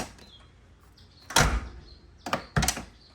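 A car door fitted with LMR flush door handles opening: a loud close clunk, then two quicker latch thunks about a second later, with quiet background between.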